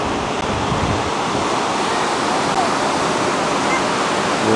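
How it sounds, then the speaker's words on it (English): Ocean surf breaks steadily on a beach in Gulf Shores, a loud continuous wash of waves filling the whole stretch without pause. "It's a beautiful beach."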